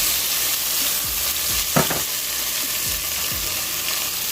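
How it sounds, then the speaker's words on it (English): Chopped onion and cilantro sizzling in two tablespoons of hot oil for homemade lasagna, a steady frying hiss with a few scrapes of stirring and one brief clatter. "I have 2 tablespoons of oil that's hot, and that's going directly in there."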